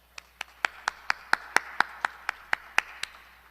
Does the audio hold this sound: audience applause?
yes